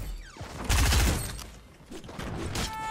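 A burst of video game gunfire in a Fortnite-style shooter hits loud and close, with a heavy blast near the start, then scattered lighter shots and clatter.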